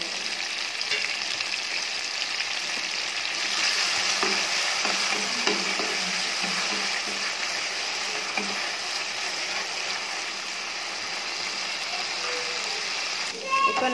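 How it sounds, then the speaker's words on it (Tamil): Tomatoes are sautéed in a pan for jilebi fish kulambu, a steady hissing sizzle with occasional stirring scrapes that holds evenly, then ends with a brief clatter. "வதக்கிடுங்க, நல்லா வதங்கினாலும் நம்ம தக்காளி"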